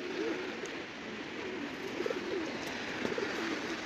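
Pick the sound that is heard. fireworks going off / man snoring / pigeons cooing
pigeons cooing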